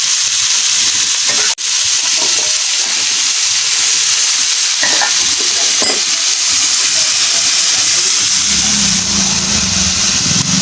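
Prawns fry in a pan, a loud, dense, continuous sizzle and hiss close up, with a brief dip and a few faint clinks of a utensil.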